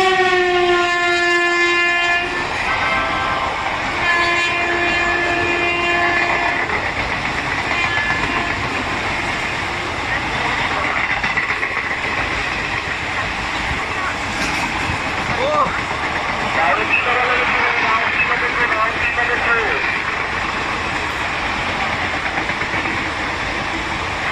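Two express trains, a Bengaluru superfast and a Rajdhani, run through a station in parallel with a loud horn at the start, then a steady rumble and rattle of passing coaches that continues throughout, with station announcements faintly underneath.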